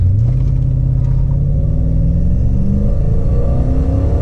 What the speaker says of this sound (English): This truck isn't fast, but let's give it a little 0 to 30.